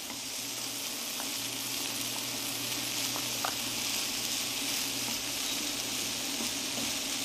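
Cooked rice sizzles and crackles steadily in a hot pan while being stirred around, with a few faint scrapes breaking through the continuous frying hiss.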